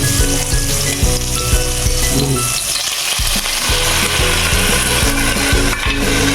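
Squid dropped into a hot pan with sautéed ingredients for adobong pusit, frying with a loud continuous sizzle, plus scraping and stirring clatter of a utensil against the pan.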